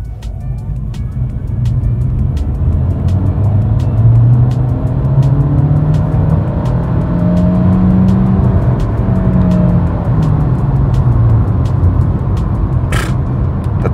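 A 2025 MG ZS Hybrid+ with 197 hp accelerates hard from a standstill to 100 km/h, a steady engine drone rising in pitch through a long pull, heard loud from inside the cabin with regular ticking in the background.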